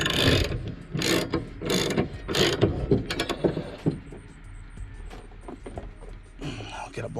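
A ratchet tightening the spindle of a Craftsman T1600 table saw, with a series of close, sharp clicking bursts in quick uneven strokes, followed by softer mechanical rattles and small clicks.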